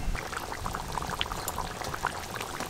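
Liquid is poured during fish curry cooking, a short, close gurgling splash with bubbly spatter that holds steady for under three seconds and has no talking over it.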